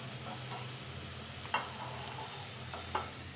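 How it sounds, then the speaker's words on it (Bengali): Shredded cabbage softens in a frying pan for bottle gourd noodles, giving a soft steady sizzle with two brief scraping stirs of a spatula, fairly quiet and close. "এখন আমি 2-3 মিনিট এই বাঁধাকপিটাকে একটু সফট করে নেব।"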